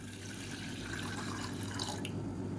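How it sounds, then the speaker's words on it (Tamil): Water poured into a semolina porridge mix, a steady splashing trickle under a constant background hum, with a few brighter drip accents near the end. "சேர்த்துட்டு ஒரு 300 ml அளவுக்கு தண்ணி சேர்த்துக்கலாம்."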